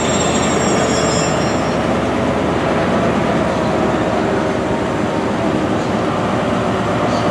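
Loud, steady rumble and roar of a passenger train, Class 43 power car 43163, at a station platform near Cardiff, with broadband engine noise sustained throughout and no pauses.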